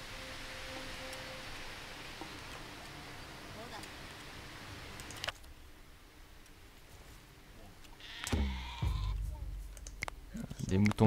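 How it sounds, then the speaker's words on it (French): Faint bleats of starving sheep in the prehistoric settlement game Dawn of Man, sitting low in a steady hiss of game ambience, with a murmuring voice and a few louder clicks and thumps near the end. "Des moutons qui meurent de faim."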